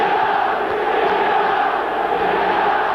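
A dense stadium crowd roaring and cheering during the 1988-89 European Cup semi-final second leg between Milan and Real Madrid, a loud, continuous distant-sounding wash of voices with no single speaker standing out.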